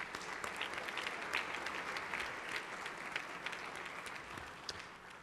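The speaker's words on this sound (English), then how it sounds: "Let's give Mike a round of applause." Steady applause fills a legislative chamber for a guest named Mike, many hands clapping evenly at a distance, quiet and continuous without voices.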